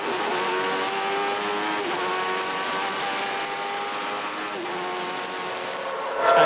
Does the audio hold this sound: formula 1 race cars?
yes